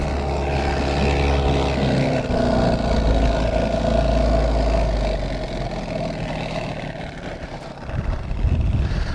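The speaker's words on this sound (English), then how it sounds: "I'm going to slow this motor down and then shut it off" A sailboat's outboard motor drones loudly and close, a steady low rumble that eases off and drops in level toward idle near the end, with no voices over it.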